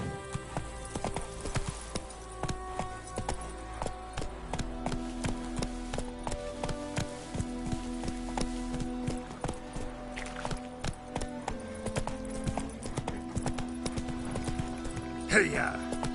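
Horse hooves clip-clop in a steady rhythm as a horse is ridden in The Witcher 3: Wild Hunt. The hoofbeats carry on under game music and voices.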